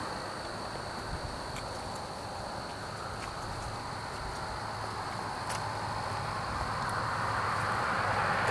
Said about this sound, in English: And there's the insects.